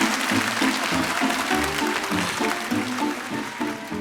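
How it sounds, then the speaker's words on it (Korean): A studio audience at a Korean KBS television broadcast applauds, dense sustained clapping from many hands that swells and holds steady throughout, no voices over it. "자, 박수 한번 주시죠."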